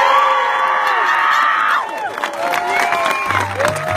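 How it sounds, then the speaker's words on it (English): Wedding guests burst into loud cheering and clapping with whoops and shouts as a newly married couple is introduced, the crowd noise steady and close throughout. "Wild, tumultuous applause."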